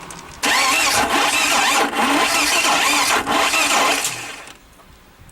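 A car engine cranks several times in quick rhythmic bursts, catches and runs loudly for a few seconds, then drops away to quiet.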